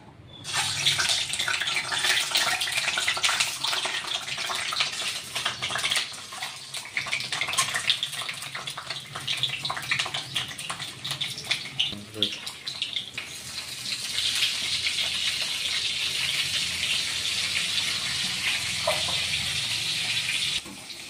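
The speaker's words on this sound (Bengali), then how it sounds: "আমার তেল গরম হয়ে গেছে, আমি এখন ডিমগুলো ছেড়ে দিচ্ছি" Eggs frying in hot oil, a loud, continuous hissing sizzle heard up close that holds steady for about twenty seconds with slight swells in intensity.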